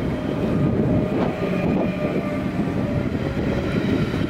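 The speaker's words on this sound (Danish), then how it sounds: "Her er vi i 4-toget" IR4 regional train with green doors running, a steady loud rumble of wheels and carriage noise throughout from inside the train, with faint rail clatter.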